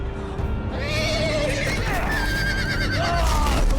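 A horse in the Game of Thrones video game lets out loud, shrill whinnies with wavering pitch over busy background noise and hoofbeats, with voices talking underneath.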